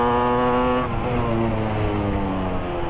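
A Yamaha RX 135 five-speed two-stroke motorcycle idles close by with a steady, buzzing harmonic drone. The pitch dips briefly near the start and then holds even.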